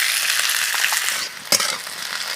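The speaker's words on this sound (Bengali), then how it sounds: "এবার 2 থেকে 3 মিনিট মতো টাইম নিয়ে আমি বিনসগুলোকে অল্প করে ভেজে নেব।" Green beans frying in a pan, a dense bright sizzle that dips briefly as they are stirred, with a sharp scrape of the spatula near the end, close and free of voices.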